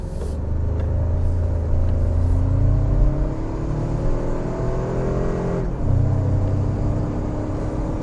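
A 2025 Toyota 4Runner Trailhunter pulls away, its engine rumbling and climbing in pitch through gear changes. There is a brief dip and a shift near the middle, then it accelerates again, close and steady, with no talking.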